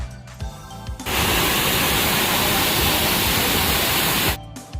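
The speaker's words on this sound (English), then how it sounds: "there's a waterfall that's worth seeing down here" Waterfall in Costa Rica, likely La Fortuna, roaring as a steady, loud, close wash of broadband water noise that starts abruptly after a second and stops near the end.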